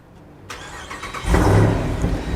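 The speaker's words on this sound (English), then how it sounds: "let's jump inside and let's turn this vehicle on" A 2024 Jeep Wrangler Rubicon 392 engine cranks and fires up after a brief quiet moment, then swells into a loud, deep rev close by before settling into a rumbling idle.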